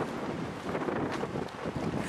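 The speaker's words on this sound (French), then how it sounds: "Il fait super beau, mais il y a beaucoup de vent." Strong wind buffets the microphone outdoors in Moncton, New Brunswick, on a sunny day, making a steady dense roar with gusty surges throughout.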